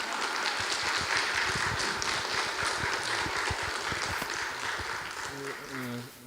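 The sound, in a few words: applause in church congregation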